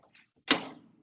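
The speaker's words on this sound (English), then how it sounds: "let's go open that other door for ventilation" A door on a neglected 1975 Chrysler Cordoba is pulled open with a single sharp metallic clunk and latch release, close and moderately loud, following a couple of faint scrapes.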